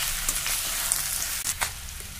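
Biryani masala and kasuri methi sizzle in a pan in a steady, close hiss, with a few soft scrapes as the mixture is stirred.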